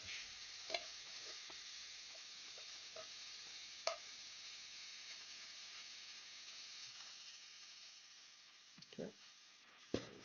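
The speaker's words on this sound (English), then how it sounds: "Yeah, that food sizzle." Corned beef hash sizzling in butter in a hot pan, a soft continuous frying hiss with occasional clicks and stirring scrapes, heard close and fairly faint.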